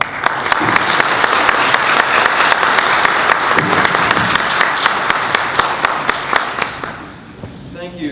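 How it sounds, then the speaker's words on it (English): Sustained applause from a large audience, dense clapping with a few louder individual claps, fading out near the end. "let's have a big round of applause for Mayor Soglin."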